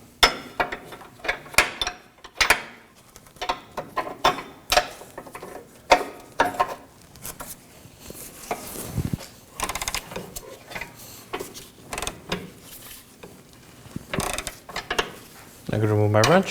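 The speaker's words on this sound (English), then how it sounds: "I'm going to reposition my wrench." Ratchet wrench clicking on a 22 mm front lower ball joint nut of a 2013–2019 Nissan Sentra: repeated bursts of close, sharp metallic clicks with short pauses and clunks as the tool is worked and repositioned.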